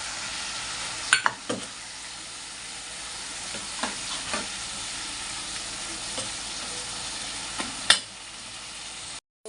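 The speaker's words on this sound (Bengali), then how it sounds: "বন্ধুরা আমার মশলাটা কষানো হয়ে গেছে, মশলায় তেল ছেড়ে দিয়ে দিয়েছে।" Spiced tomato masala with Kashmiri chili powder and salt sizzling in oil in a pan, with a few brief scraping stirs over a steady soft frying hiss.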